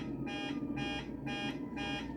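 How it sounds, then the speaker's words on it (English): A cockpit alarm inside a 737 MAX in Microsoft Flight Simulator 2024, beeping in four evenly spaced pulses, each about a quarter second long, steady and fairly faint. "tired of hearing the alarm"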